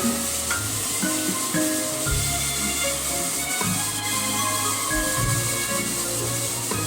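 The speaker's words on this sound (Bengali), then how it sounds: "এবার আমি কড়াইতে সাদা তেল দিয়ে বোনলেস চিকেনগুলো হাই ফ্লেমে ভেজে নেব" Boneless chicken frying in white oil in a wok over a high flame, giving a loud, continuous sizzle and hiss with occasional stirring scrapes throughout.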